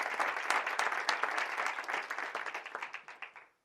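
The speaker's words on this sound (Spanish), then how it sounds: "Un aplauso muy fuerte para esta asociación tan maravillosa" Audience applause for an association at a conference on addiction in Jumilla, a dense crowd clapping that thins out into scattered fading claps at the end.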